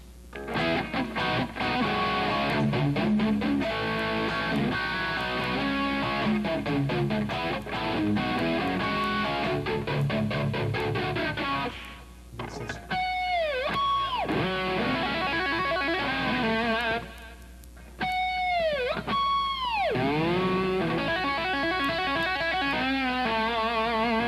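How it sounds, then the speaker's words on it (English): Electric guitar played through a flanger, loud and distorted. Dense riffing gives way to swooping, sweeping tones with short gaps between phrases, the whole passage played alone without talk. "Then he'll step on his flanger."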